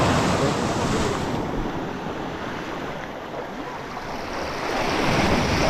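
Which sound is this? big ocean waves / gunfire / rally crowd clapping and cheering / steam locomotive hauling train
big ocean waves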